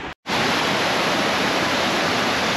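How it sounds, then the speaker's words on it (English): A waterfall in Cape Breton roars as a loud, dense, steady wash of falling water close by, starting after a brief cut of silence and continuing unbroken. "Now, let's go up and have a look at the falls."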